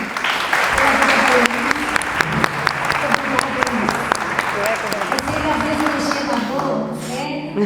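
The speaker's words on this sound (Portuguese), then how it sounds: "Vamos aplaudir o Senhor" Applause at a women's church gathering, with loud clapping and scattered sharp individual claps, while people keep talking over it from start to finish.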